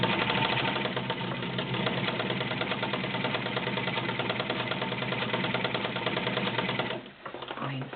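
Kenmore model 1247 sewing machine running a blind stitch, a rapid continuous mechanical whirring chatter that holds steady and then winds down near the end.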